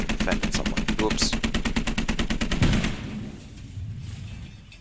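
Vehicle-mounted gun on a Humvee gunner seat firing on a range in the Squad video game, a rapid steady string of loud shots for nearly three seconds, then fading rumble and faint background noise.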